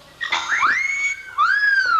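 A pet bird whistles two clear, rising tonal phrases, bright and close, with a short pause between them.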